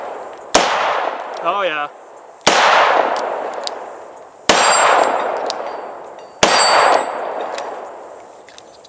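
A Taurus Model 85 .38 Special revolver fires four loud, sharp shots of +P Remington UMC semi-jacketed hollow points, spaced about two seconds apart with ringing decay, and someone briefly speaks between the first two shots.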